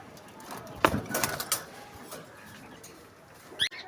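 Pigeons on a farm give soft, low coos and brief wing flutters, close by but fairly quiet. A few short bursts stand out over faint background noise.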